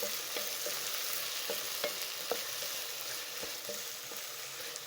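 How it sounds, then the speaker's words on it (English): Sausages are stirred with tomato puree in a pan, giving a soft, low sizzle under a series of light, evenly spaced clicks and scrapes from the utensil, fairly quiet throughout. "Then mix everything together."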